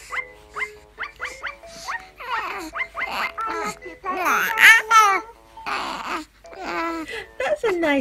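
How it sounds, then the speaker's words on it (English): A young baby girl babbles and coos in short, close vocal bursts, rising and falling with little squeals and moans, separated by brief quiet gaps. "she's making cute little baby noises, which is really nice"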